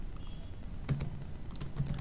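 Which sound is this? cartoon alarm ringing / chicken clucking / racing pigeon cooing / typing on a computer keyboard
typing on a computer keyboard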